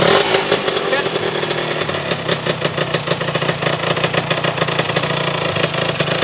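A motorcycle engine runs loud and close while being ridden, a steady buzzing drone with rapid pulsing throughout.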